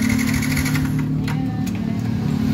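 A Yamaha Vixion motorcycle engine with a running fault (hard starting, rich fuel, smoking exhaust) idles steadily nearby with a low, even hum and faint mechanical ticking throughout.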